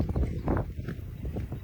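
Hoofbeats of a young horse during riding training, working on its canter leads, thudding in a steady rhythm at close range, with no talk over them.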